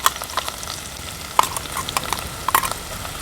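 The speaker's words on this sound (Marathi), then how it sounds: "आलं लसूण मिरची कोथिंबीर चं हे वाटण आहे हे आपण तेलावर टाकूया" A ginger, garlic, chili and coriander paste dropped into hot oil, sizzling steadily up close with scattered pops and occasional spoon or pan clinks, no talking.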